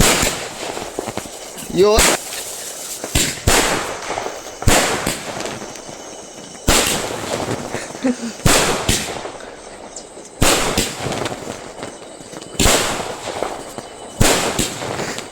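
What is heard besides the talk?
firecrackers bursting, fifteen-shot firework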